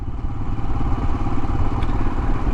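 A Royal Enfield motorcycle on a village road: a loud, continuous low thumping engine rumble with a pulsing beat, heard close and steady throughout.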